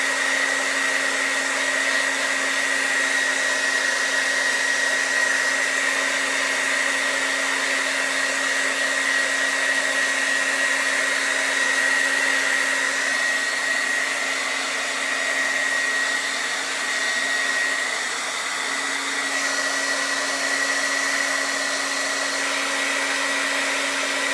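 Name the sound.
heat tool heat-setting ink on fall decor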